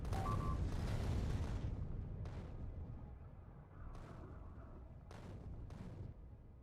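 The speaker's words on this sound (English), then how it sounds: "artillery cannons just became available" Artillery cannons fire in the video game Factorio, heavy booming blasts followed by several short sharp reports spaced a second or so apart, fairly quiet overall.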